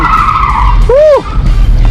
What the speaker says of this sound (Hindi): टायर हो रहा है फुल बंद, गाड़ी एक जगह पे घूम रही है फुल।